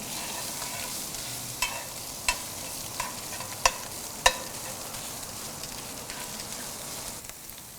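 Hot Italian sausage browns in a pan on a Kamado Joe grill, a soft steady sizzle broken by a handful of sharp pops and scrapes of stirring.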